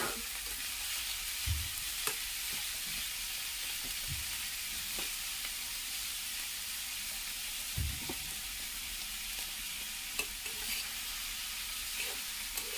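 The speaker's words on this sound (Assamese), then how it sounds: "বৰ বিশেষ ভজাৰ প্ৰয়োজন নাই, অলপ ভাজি ল'লে হৈছে।" Vegetables stir-fry in a pan for veg chow mein, a steady soft sizzle with occasional dull knocks of the spatula against the pan, heard alone.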